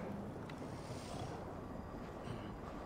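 Steady wind gusting before a storm in Assassin's Creed Valhalla, a broad continuous rushing roar with faint whistling highs, constant and fairly loud throughout with no speech.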